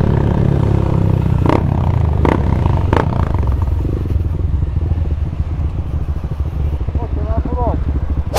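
Motorcycle engine running with a loud, rough clatter from a tuned bike low on fuel, steady throughout with a few sharp bursts early on; people talk over it.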